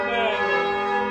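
Village church bells ring in a sustained, loud, resonant tone that hums and fades slightly over about a second, with no talk.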